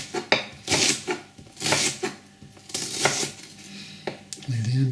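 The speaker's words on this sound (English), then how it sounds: "go down and score some lines down the onion, in a rocking motion with your fingers out of the way" A knife rocks down through an onion on a chopping board, scoring lines into it with a series of crisp, close taps and cuts that repeat at an irregular pace.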